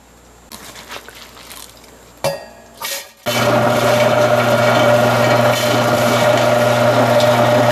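A kitchen grinder churns batter: after a few short knocks and bursts of handling noise, the motor starts and runs as a loud, steady, humming whir to the end.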